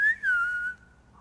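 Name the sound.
human whistling imitating a shepherd's call to sheep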